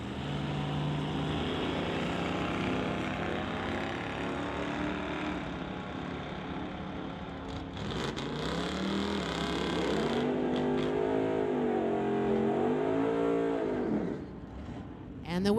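A 1970 Chevrolet C10 and another car race down a drag strip at an NHRA bracket event. The steady engine roar rises and falls in pitch and fades near the end, with commentary talking over it.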